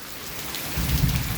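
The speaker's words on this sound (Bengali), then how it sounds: "এত বৃষ্টি আজকে কয়দিন, এত বৃষ্টি যে সব জায়গায় পানি জমে গেছে।" Heavy rain pours down in a dense, continuous hiss on surfaces, with a deeper rumble building in the second half, loud and close with no voices.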